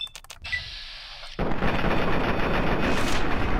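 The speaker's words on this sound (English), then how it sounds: "Look at the bullets just flying out of that thing!" Rapid automatic gunfire from a weapon in the video game Fallout 3, a dense, loud, continuous burst of shots that erupts after a brief quieter moment with a few short clicks and electronic tones.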